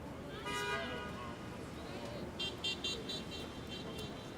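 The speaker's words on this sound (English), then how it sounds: "quintessential New York City traffic jam here" New York City traffic jam at night, a steady rumble of idling cars with a few distant horn toots breaking through near the end, faint and wide.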